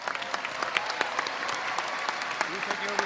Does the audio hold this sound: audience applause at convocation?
yes